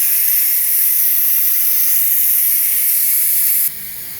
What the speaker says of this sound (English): we're gonna go ahead and release the pressure.